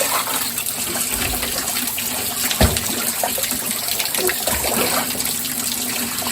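Water poured from a tabo, a traditional Filipino dipper, while bathing a child, splashing steadily with a few sharper dumps and splats over a continuous running-water wash.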